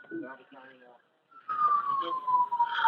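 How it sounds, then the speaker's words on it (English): Emergency vehicle siren on a 911 call, a steady wailing tone rising into audibility partway through and slowly falling in pitch as it passes, with a caller's voice talking over the line beforehand. "I hear the sirens."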